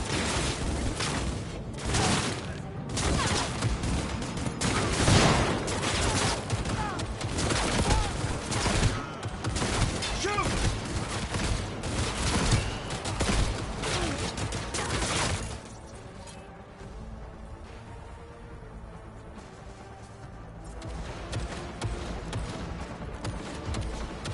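Dense, sustained gunfire rattles through a firefight in the video game Cyberpunk 2077, loud and continuous for about fifteen seconds before dropping to a quieter tail with scattered shots.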